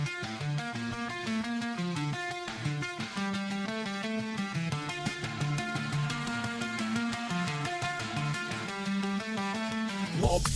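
AI-generated song from a local music model, a full mix with a steady beat, repeating chords and melodic lines playing continuously at a moderate level, ending with a brief noisy swell.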